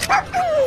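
A dog in a PlayStation game gives a short yip, then a longer whining bark-like cry, loud and close with no talk over it.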